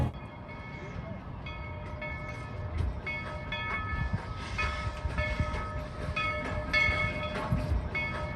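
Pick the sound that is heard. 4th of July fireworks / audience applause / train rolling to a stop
train rolling to a stop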